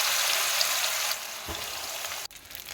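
Washed dried fish (sidra) fries in hot oil with a steady, close crackling sizzle that eases slightly after a second, broken by a brief clatter.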